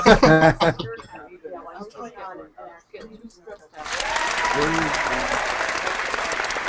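A canned applause sound effect is played during a Google+ Hangout video call. It follows a stretch of talking, then rises abruptly into a steady crowd-style clapping bed with faint cheering, and a voice speaks briefly over it.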